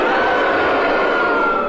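A studio audience boos together in one loud, sustained, unbroken crowd roar that holds steady for the whole moment.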